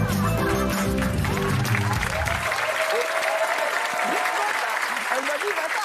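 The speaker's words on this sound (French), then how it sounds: "Allez, applaudissez." Studio audience applause on a French comedy television show, thick and steady, beginning over a short musical sting and carrying on while voices call out above it.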